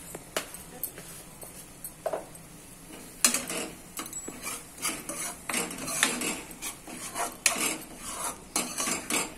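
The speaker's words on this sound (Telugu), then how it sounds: "కొంచెం బాగా ఫ్రై అయితే టేస్ట్ బాగుంటుంది, అందుకే కొంచెం బాగా ఫ్రై చేసుకుంటున్నాను" Metal spoon scraping and clinking in a pan while masala with turmeric is stirred and fried for egg masala curry, a steady run of close scrapes and taps with no talk.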